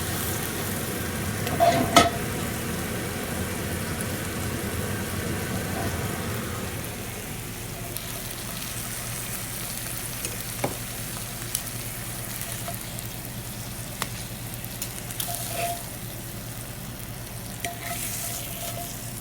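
Garlic potatoes fry in a pan, a continuous hiss and crackle of sizzling oil with a louder scraping stir early on, then settling into steady frying punctuated by occasional utensil clicks against the pan.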